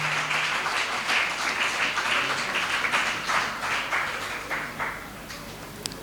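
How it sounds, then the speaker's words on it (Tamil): An audience at a church feast-day debate event claps to encourage the debaters, a dense, steady wash of applause lasting the whole stretch and tapering slightly near the end. "அவங்கள உற்சாகப்படுத்தும் விதமாக ஒரு கைத்தட்டு கொடுத்து அவங்கள உற்சாகப்படுத்தும்."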